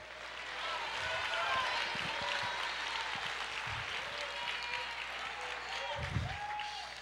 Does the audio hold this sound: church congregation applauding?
yes